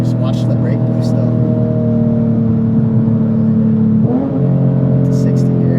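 An MK5 Supra fitted with a custom MK4 Supra exhaust accelerates hard, its engine droning loud and steady from inside the car, with a brief shift near the end before it pulls on again.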